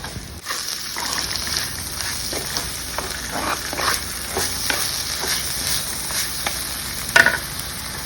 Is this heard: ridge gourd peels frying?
yes